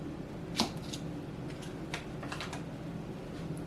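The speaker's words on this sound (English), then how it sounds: "I'm just going to cut some pats" A knife slices pats from a stick of butter for funeral potatoes, making a few soft, close taps and clicks on the board against a quiet room, with no talking.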